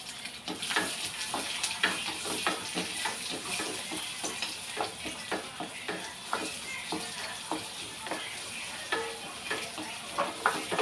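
Steady sizzling of red onions frying in a pan for a jackfruit-seed and mango curry, with occasional stirring scrapes, fairly quiet and close, no talking.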